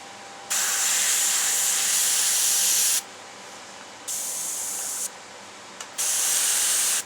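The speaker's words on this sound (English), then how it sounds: "we're going to spray the bill a little bit from the back to the front, just to make the back of the bill a little darker" An airbrush sprays paint onto the bill of a pheasant taxidermy mount in close, sharp hissing bursts, one long spray of a few seconds followed by two shorter ones separated by brief pauses.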